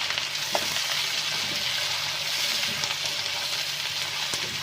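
Finely chopped onion frying in a pan for beef kofta, a steady close sizzle with soft crackles and occasional stirring clicks, no talking.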